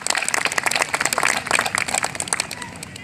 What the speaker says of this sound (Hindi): जरा एक बार ताली बजा दीजिए